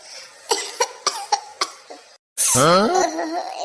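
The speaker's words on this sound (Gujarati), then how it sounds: "એકદમ ઉધરસ આવે છે" A woman coughs, a run of six short, sharp, evenly spaced coughs close by, followed after a brief pause by a burst of laughing voices.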